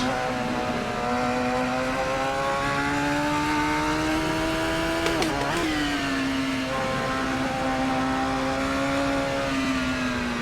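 A Radical race car engine in Assetto Corsa drones steadily at high revs, its pitch climbing slowly through a long pull before a brief dip at a shift and then settling again, loud and close, with no talking.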